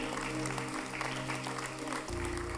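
A congregation claps together at a church service, a continuous wash of applause with steady hum and music tones underneath throughout.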